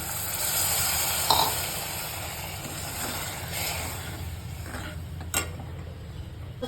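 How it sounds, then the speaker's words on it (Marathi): Water poured into a hot pan of ground chickpea greens gives a steady sizzling hiss that runs the whole time, with a few brief louder bursts and steam crackles near and alone. "ज्या भांड्यामध्ये वाटलेलं आहे त्याच भांड्यामध्ये मी पाणी ओतते"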